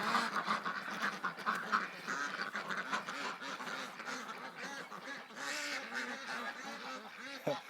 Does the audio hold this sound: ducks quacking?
yes